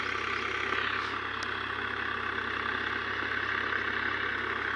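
A tractor stuck in a field idles with a steady, even engine drone that holds continuously at moderate loudness throughout, with no speech.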